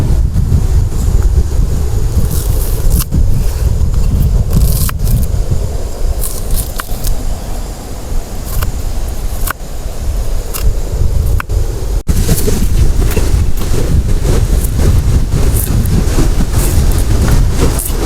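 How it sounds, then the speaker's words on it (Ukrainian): Powerful wind blasts the microphone nonstop in loud, rumbling gusts, with occasional clicks and knocks close by. "Вітер не на шутку жудався."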